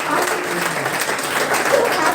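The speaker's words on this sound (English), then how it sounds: "Please give a clap to yourself" Students at a school counselling session clapping for themselves, a dense continuous patter of many hands in a room, with voices mixed faintly underneath.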